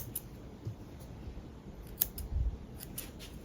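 Scissors snipping off loose crochet yarn ends, a few quick, close, crisp cuts against a quiet room.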